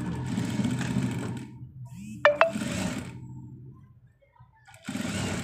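A sewing machine stitches a patch in place, running in short whirring bursts separated by pauses and a couple of sharp clicks, heard fairly close.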